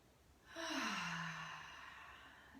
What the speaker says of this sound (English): just take a few full deep breaths